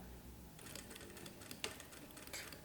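Sewing machine stitching bias binding, a quiet rapid mechanical whirr with faint clicking and a small knock midway, heard alone at low level.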